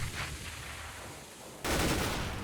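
A burst of gunfire rings out in a competitive shooter video game, loud and sudden after a quieter stretch of rumble, with a dense rattle that carries to the end.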